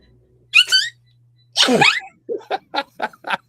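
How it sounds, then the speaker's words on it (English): Someone gives a high-pitched, cute little sneeze, then a second squeaky burst follows, trailing into a short run of light, rhythmic laughter-like puffs; the sounds are close and clear against a quiet room. "God, that was the most anime sneeze ever."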